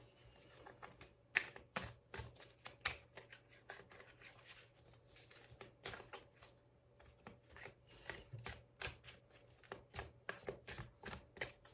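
Tarot cards are shuffled by hand at close range, a long run of quick, crisp riffling and sliding bursts with brief pauses, over a faint steady hum.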